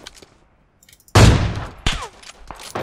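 Gunfire in an online shooter game breaks out as a sharp, loud burst after a near-silent lead-in, and a couple of further shots and rattling impacts follow in quick succession.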